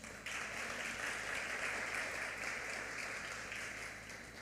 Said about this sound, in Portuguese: Dá uma salva de palmas a Deus,